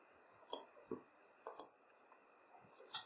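Quiet, crisp computer mouse clicks, single and doubled, spaced irregularly over a faint steady background hum.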